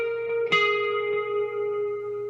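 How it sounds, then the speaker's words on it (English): Electric guitar through pedals including a Morning Glory overdrive, with long reverb and delay: a sustained tone, a fresh strum partway through, then a long shimmering decay with echoing tails. "I'm usually on like the long reverb setting with like the Morning Glory and delay"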